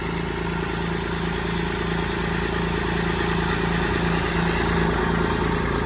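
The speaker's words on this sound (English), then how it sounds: "it is with the engine running." Engine of a Waldon 5000 loader running at a steady idle, a constant droning hum with a fine rapid pulse, close and unchanging throughout.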